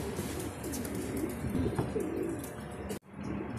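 Racing pigeons back from a road toss training flight at Cabanatuan coo softly and close by, with several low throaty calls and light chirps over faint background noise, cut briefly near the end.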